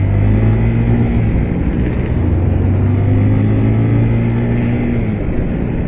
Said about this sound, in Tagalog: Ganda ng sports car na yan.